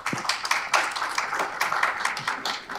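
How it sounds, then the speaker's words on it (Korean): Audience clapping at an energy innovation business forum, welcoming a company CEO to the stage to present on the used EV battery business; a steady patter of claps from a modest crowd, fairly close and alone. "여러분들의 따뜻한 박수로 환영해 주시길 바라겠습니다."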